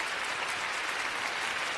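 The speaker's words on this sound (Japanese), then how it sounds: "大きな拍手が送られています。" Large arena crowd applauds after a figure skating performance, a steady, even wash of clapping that sounds fairly distant and continuous with no voices on top.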